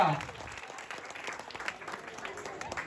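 Applause at a Shivaji Maharaj Jayanti celebration: a crowd claps steadily for the full length, with a short burst of voice at the very start.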